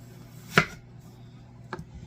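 A knife slices an item in half on a cutting board in a home kitchen, giving two sharp, close thunks about a second apart with quiet room tone between them.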